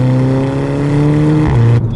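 A 2011 Volkswagen Golf GTI MK6 engine pulls hard and loud from inside the cabin, its tone climbing steadily before a brief shift-like dip near the end.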